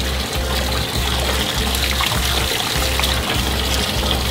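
Hot water pours steadily into a basin for washing yarn skeins, a continuous close trickle and splash with a faint rhythmic low thumping underneath, no voices.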